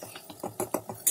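Sojne (drumstick) flowers being mixed by hand with a spiced poppy-seed and mustard paste with garlic, green chilli and salt, giving a run of soft, close clinks and scrapes against a bowl in quick succession.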